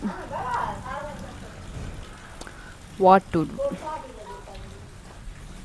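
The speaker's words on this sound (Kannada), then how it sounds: "ಮಳೆ ಬರ್ತಿದೆ, ಅದರಲ್ಲೂ ಸಿಡಿಲು." A heavy downpour with thunder drums steadily while travelling to Kateel temple, a constant rain hiss under a short burst of voices talking partway through.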